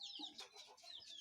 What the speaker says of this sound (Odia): କୁକୁଡ଼ା ଦେଖନ୍ତୁ ଦେଶୀ କୁକୁଡ଼ା